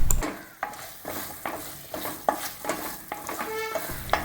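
Pitted dates being stirred and cooked down in milk and sugar for a banana pudding, a close bubbling sizzle with repeated spoon scrapes against the pan every half second or so.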